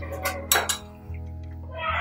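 A lid set over a pan of sev bhaji, heard as a few clinking metal knocks and rattles over a low steady hum, with faint background murmur.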